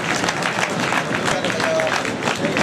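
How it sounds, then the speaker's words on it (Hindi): Audience applause at a community award program fills the space as a steady, dense wash of clapping from a sizeable crowd, with faint voices mixed in. "सबसे पहले इन सब के लिए भरपूर तालियाँ होनी चाहिए।"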